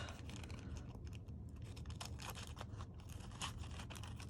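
Scissors snip through a paper insert for a handmade bookmark, a run of close, crisp crunching cuts that continue steadily without talk.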